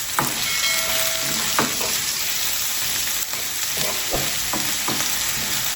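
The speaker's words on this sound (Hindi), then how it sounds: "1 चम्मच अदरक लहसुन का पेस्ट है, इसकी थोड़ी को भुनाई करेंगे।" A spoonful of ginger garlic paste fries in oil in a pan, giving a steady close sizzle with occasional scraping clicks of a spoon stirring, and no talking.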